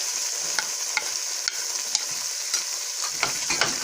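Onions and chonge (Caralluma fimbriata) stir-fry over low heat in a pan, a bright continuous sizzle broken by sharp scraping strokes of a spatula at an uneven pace, close and with no talking.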